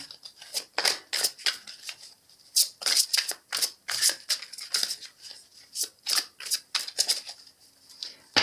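Tarot cards being cut and handled by hand, giving a rapid run of crisp, close papery flicks and snaps in an uneven rhythm with no talk.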